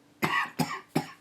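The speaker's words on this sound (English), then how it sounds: "stupid cough." Three sharp, close coughs from a lecturer in a math class, evenly spaced about a third of a second apart, each a short harsh burst with no talk around them.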